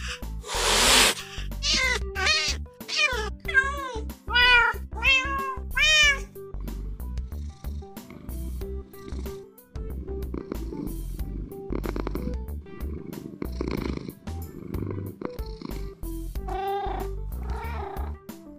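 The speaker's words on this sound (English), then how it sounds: "There are now 15 sounds for the cat." A rapid series of video game cat meows and chirps from game snapshot 12w06a plays one after another, some sharp, some drawn out, followed by softer purring and rumbling with clicks.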